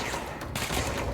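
Rapid burst of video game gunfire, dense crackling shots packed into about a second, loud and close with no pause.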